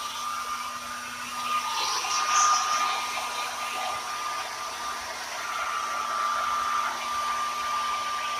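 A Philips HP8108/02 hair dryer blows steadily with a constant airy whoosh and a faint whine, close and continuous throughout.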